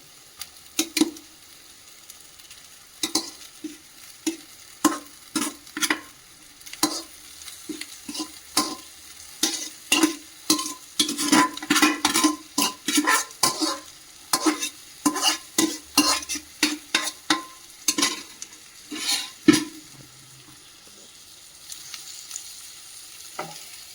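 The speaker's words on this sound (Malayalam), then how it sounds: "മസാല എല്ലാം നല്ലപോലെ നമ്മൾ ചോറിൽ ചേർത്ത് കൊടുക്കണം. അതുപോലെ ഇളക്കി ചോറിലെ ജലാംശം എല്ലാം ഒന്ന് വറ്റിയിരുന്നു." Cooked Palakkadan matta rice is stirred and fried with masala in a pan, with a long run of rhythmic spatula scrapes and knocks over a soft sizzle, close and steady.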